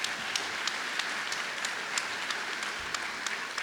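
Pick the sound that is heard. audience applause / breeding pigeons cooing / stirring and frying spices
audience applause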